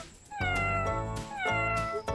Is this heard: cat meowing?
yes